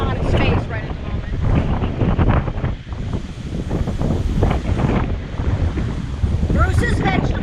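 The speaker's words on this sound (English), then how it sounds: "You can tell by the ornamental grass how windy it is." Strong wind buffets the microphone in loud gusts in a garden, roaring and rustling through ornamental grass continuously with brief lulls, and a voice faintly heard within it.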